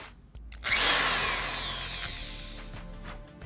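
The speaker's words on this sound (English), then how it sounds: "the drill." A handheld power drill spins up sharply and holds a loud, high whine for about three seconds, slowly easing in pitch, used in making a clock from a hardcover book.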